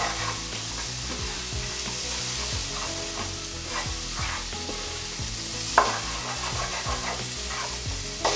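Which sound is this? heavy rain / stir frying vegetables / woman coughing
stir frying vegetables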